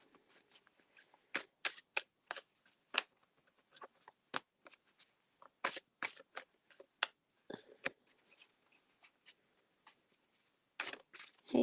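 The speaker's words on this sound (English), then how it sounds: "This is the first shuffle of this deck for the night." A deck of oracle cards is shuffled by hand in a quiet room, with repeated short crisp riffling bursts and soft flicks in an uneven rhythm, close and clear.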